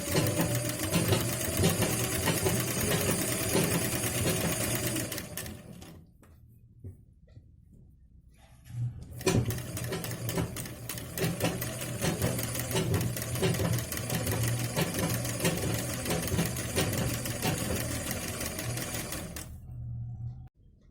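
A sewing machine stitching a blouse runs in two long, fast-whirring bursts with a rapid needle chatter, pausing briefly in between, then stopping near the end; close and steady, no voices.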